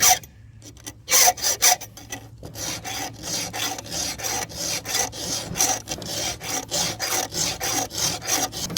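A hand file rasps across chainsaw teeth in quick, repeated strokes close by, with an uneven start before it settles into a steady back-and-forth rhythm while the chain saw is sharpened on a poplar firewood job.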